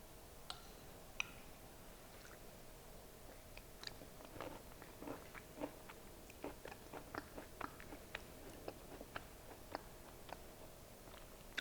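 Toasted walnuts are crunched on top of butternut squash soup, giving a close, quiet series of irregular crisp cracks and bites over soft chewing for several seconds.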